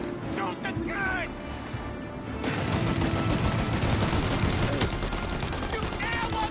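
Gunfire from the Mafia Definitive Edition video game starts as scattered shots under shouted voices and then swells into heavy continuous automatic fire.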